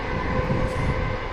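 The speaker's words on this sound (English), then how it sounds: "It was a suburban train" A suburban train rolls past close by in the countryside near Luban, a steady, loud, dense rumble of wheels and carriages that holds for a short stretch without any horn.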